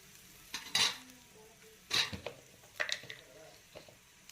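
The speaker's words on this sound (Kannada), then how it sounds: "ಈಗ ಅದಕ್ಕೆ ಎಣ್ಣೆ ಹಾಕಿ ಹುರ್ಲಕತ್ತೀನಿ ನೋಡಿರಿ ನಾನು" Bitter gourd fries in oil in a pan while a utensil stirs and scrapes in sharp bursts over a low, faint sizzle, all heard close up.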